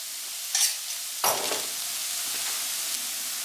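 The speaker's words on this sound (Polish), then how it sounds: "Jeszcze chwilkę podsmażamy." Radish and young onion fry in a pan with a steady soft sizzle, broken by two short scraping stirs near the start before the frying hiss settles back.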